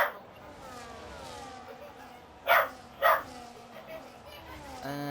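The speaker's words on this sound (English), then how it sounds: "my dog doesn't want to shut off" A household dog barks twice in quick sharp bursts, then gives a softer yelp, sounding close by beneath steady background talk.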